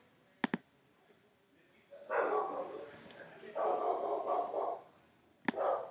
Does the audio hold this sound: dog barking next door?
yes